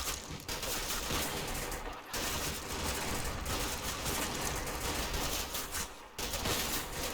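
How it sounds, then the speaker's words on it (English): A Bren light machine gun firing during a Monte Cassino battle in Combat Mission, heard as continuous, dense battlefield gunfire with overlapping bursts and short lulls, loud throughout. "The Bren doesn't have the same rate of fire as the MGs, but it's still a very effective LMG."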